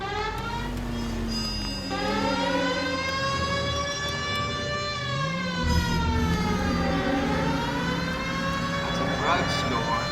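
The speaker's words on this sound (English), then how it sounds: "I've got my siren on" A police car siren in the video game L.A. Noire wails, rising and falling continuously over engine rumble, loud and close, with a voice briefly speaking underneath.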